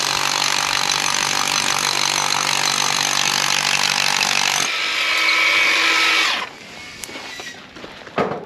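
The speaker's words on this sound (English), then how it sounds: "this is the 60 volt DeWalt drill" A 60 volt DeWalt hammer drill runs loud and steady for about six seconds, its broadband grinding roar filling the space, then cuts out and spins down, leaving faint handling clatter.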